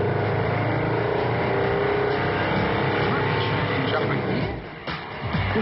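A prototype car running on compressed air drives along with a steady mechanical drone and hiss that dips briefly near the end, and a muffled voice sounds underneath.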